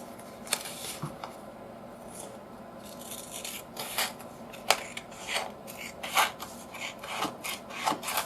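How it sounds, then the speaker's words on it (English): Gift wrap paper being trimmed for a Victorian Gothic journal page, a soft papery rasp and rub with intermittent crisp snips, close and fairly quiet, with no talking. "I'm just trimming off the extra length."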